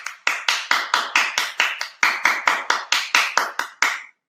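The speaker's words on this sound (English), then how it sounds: "Can everyone clap loudly?" An audience at a digital marketing career talk claps loudly in unison, about seventeen sharp, evenly spaced claps in a steady rhythm lasting roughly four seconds, with no talking.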